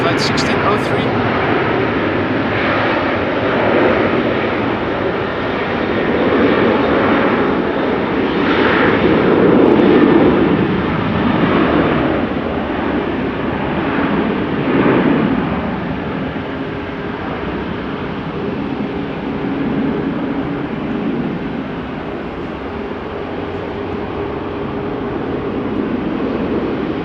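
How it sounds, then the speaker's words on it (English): KLM Boeing 737-900 jet airliner at rainy Amsterdam Schiphol, a broad steady engine roar rising and falling slightly over a long stretch, heard from a distance on a wet day. "This is a KLM 737-900 to Rome,"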